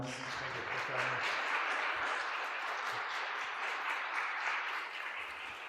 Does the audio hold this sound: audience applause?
yes